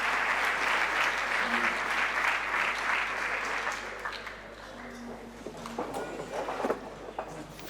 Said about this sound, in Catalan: Rebem amb un fort aplaudiment els músics i les músics de la nostra banda de música